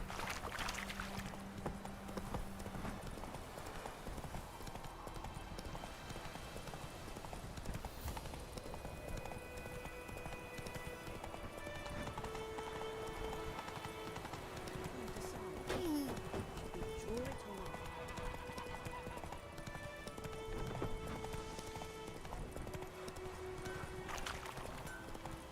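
Horse hooves gallop in The Witcher 3 as a continuous rapid clip-clop rhythm, mid-distance and steady, with scattered game sounds and brief tonal effects layered over the hoofbeats.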